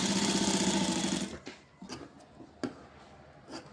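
A sewing machine stitches a saree blouse piece in a fast, steady run that is close and clear, then stops, leaving a few faint clicks and handling knocks.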